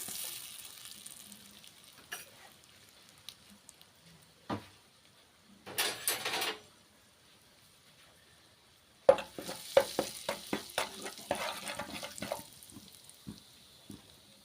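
Egg curry masala of turmeric, chili powder and salt frying in a pan, with intermittent bursts of sizzling and scraping stirs, quiet gaps between them, then a denser run of rhythmic stirring clatter near the end.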